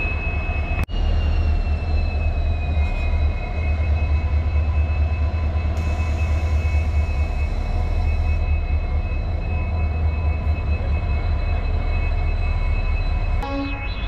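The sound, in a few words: WDG4 diesel locomotive with train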